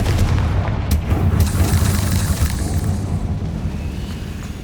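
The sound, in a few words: Confringo fire-blast spell explosion in a Hogwarts video game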